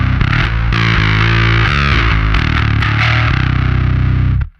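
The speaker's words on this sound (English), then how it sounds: "It's an extremely light, very light distortions to just ripping heavy." Guitar played through the Aroura DSP Mammoth bass amp sim distortion plugin, with a thick, saturated tone. Chords and notes ring out steadily at full loudness for about four seconds, then cut off sharply.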